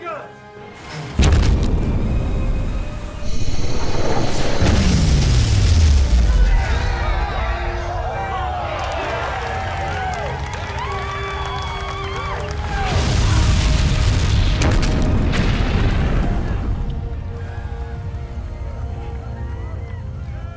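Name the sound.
spaceship main guns firing, explosions in sci-fi movie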